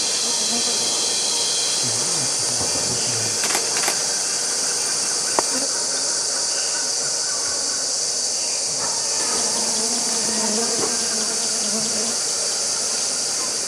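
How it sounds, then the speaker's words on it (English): A swarm of flies and mosquitoes buzzes near an elephant viewing spot in the forest home of the Pygmies: a steady, high, hissing drone throughout, with faint distant calls and knocks underneath. "A swarm of flies and mosquitoes spoil an otherwise romantic view."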